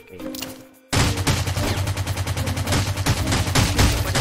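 Rapid automatic gunfire from an AK in Rules of Survival bursts in loudly after a quiet start and keeps going as a fast, close rattle of shots until the end.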